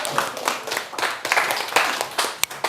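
A classroom group applauds after a presentation, giving a couple of seconds of close, uneven hand clapping from a small number of people, ending with a few sharp separate claps.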